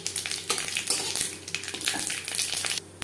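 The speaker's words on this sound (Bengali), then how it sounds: "লঙ্কা ভেজে নেওয়ার পর দিয়ে দেব সর্ষে" Mustard seeds crackle in hot oil after chillies have been fried, a tempering for sour masoor dal with elephant apple: a dense, steady sizzle with faint popping, no talk.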